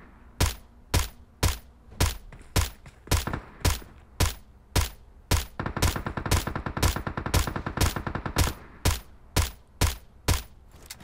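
Suppressed QBU88 marksman rifle fired in PUBG Mobile, a long series of sharp, evenly spaced shots that bunch into a faster burst midway, loud and close with brief decaying tails between them.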